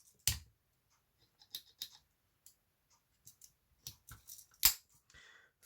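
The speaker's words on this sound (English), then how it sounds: "Then we have scissors." The small scissors of a Victorinox Compact Swiss Army knife open and snip, producing sparse, sharp metallic clicks and cuts at irregular intervals against near silence.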